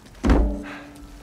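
A single dull thunk lands as a gear bag is tossed down in Uncharted 4, one close, heavy low thud that fades quickly into quiet room tone.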